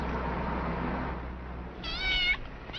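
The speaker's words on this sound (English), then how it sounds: "Your cat seems to have gotten itself locked out." A cat locked outside meows once, a clear, fairly close cry rising over a steady hum of background noise in an old film soundtrack.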